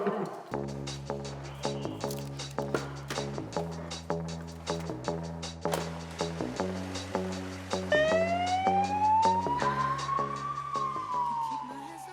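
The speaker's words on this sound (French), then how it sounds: "Un véhicule prioritaire qui s'approche avec les feux bleus et la sirène allumée" An ambulance siren wails, rising and falling in pitch, over a repeating rhythmic engine-like pulse; it grows louder and sweeps upward near the end as the vehicle approaches.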